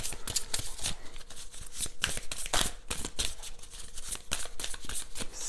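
Oracle cards shuffled continuously, a dense, busy rustle of sliding and flicking card stock with quick snaps throughout, heard up close and without speech.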